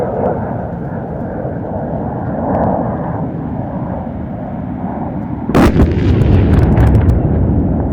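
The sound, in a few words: air-dropped bombs exploding on target, Indian Air Force demonstration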